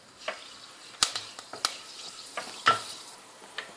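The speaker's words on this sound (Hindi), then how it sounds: "अब मैं इसमें ये जो मेथी दाना है ना, ये डाल के इसको जला लेना है" Fenugreek seeds fry in hot oil in a pot, with soft crackling and a few sharp pops and spoon taps scattered over a quiet background, close and fairly faint.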